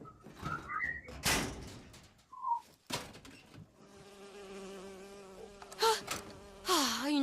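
A bee buzzes in the video game BioShock Infinite: a droning, wavering hum that swells and fades among other clanks and game noises, with no talk.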